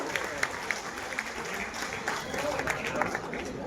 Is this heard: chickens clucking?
no